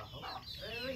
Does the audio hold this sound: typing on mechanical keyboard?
no